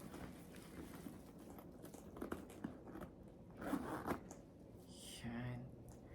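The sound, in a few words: zipper of a Coach Rowan Satchel bag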